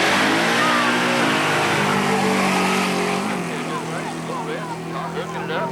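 Drag racing car launching down the strip at Centerville Dragway, a loud roaring engine that revs up and fades away into the distance while an announcer talks over it.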